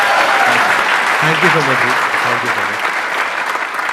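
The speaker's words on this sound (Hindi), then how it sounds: "उनके लिए जोरदार तालियां" Audience applause rings out steadily at a live event, a dense close wash of clapping, while someone speaks a few words of thanks over it.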